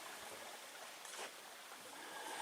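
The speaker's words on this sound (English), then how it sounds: "That's the Big Carp River. This flows into the Lake of Clouds." The Big Carp River in the Porcupine Mountains of Michigan flows in a soft, steady stream wash, faint and continuous with no voices over it.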